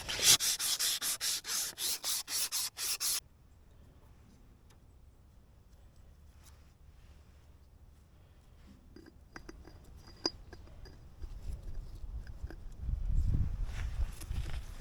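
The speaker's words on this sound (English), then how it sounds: "I've got a little piece of 320 just to smooth it up a little bit even finer." A trailer axle is smoothed with 320 grit sandpaper in a dozen quick, close back-and-forth strokes for about three seconds, followed by quiet with faint handling clicks and a low thump near the end.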